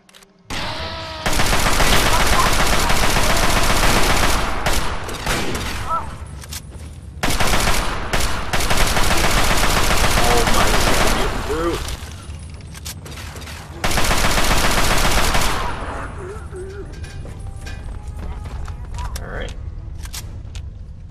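Gunfire from the Fallout 3 video game is aimed at the player, coming as three long, loud bursts of rapid automatic shots separated by quieter stretches with mechanical clatter and some talk.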